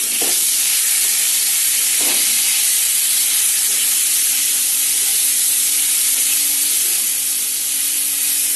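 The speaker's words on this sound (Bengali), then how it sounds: "এখানে এই যে উচ্ছে ভাজা বসিয়ে দিয়েছি" Bitter gourd slices frying in a pan give a loud, continuous, close hiss and sizzle that holds steady throughout, with a couple of faint utensil knocks near the start and no voices.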